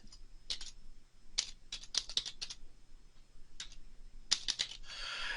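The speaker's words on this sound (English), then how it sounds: "And so I'll type mine in." Fingers type a name into a login field on a computer keyboard, bursts of close, crisp key clicks arriving in uneven clusters with short pauses between them.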